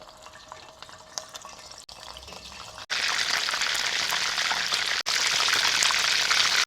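Chicken wings for hot honey wings go into hot oil. Soft crackles give way to a loud, dense sizzle and spatter that fills the rest of the clip close up, briefly dipping once midway.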